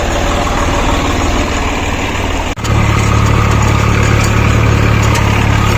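A Mahindra 855 tractor engine runs at raised RPM, a loud, dense, throbbing diesel roar with deep low rumble, briefly cutting out for an instant before resuming even harder and steady, close by with no talk.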